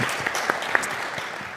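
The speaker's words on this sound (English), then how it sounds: "feel free to have a round of applause at any stage that you need to" Brief scattered applause from an audience at a higher education summit, a thin patter of claps with a few louder individual claps standing out, short and moderately quiet.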